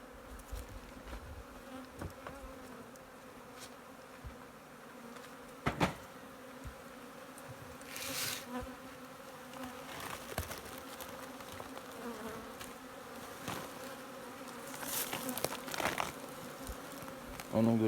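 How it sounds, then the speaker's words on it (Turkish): Honeybees buzzing around a yard of about fifty hives during spring care, a steady soft drone with individual bees passing close by in louder swells. "50 civarında arı var."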